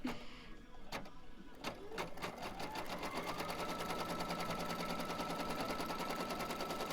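A Solaris embroidery machine stitches in a fast, steady mechanical chatter that starts after a few isolated clicks and then runs continuously, close and fairly loud.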